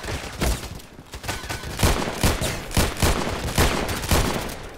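Rapid gunfire in the video game Contract Wars, loud bursts of shots in quick succession with a few short gaps.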